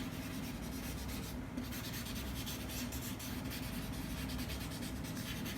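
A paper tissue rubs vine charcoal across paper, making a continuous close, dry, scratchy swishing that runs steadily throughout with no voices.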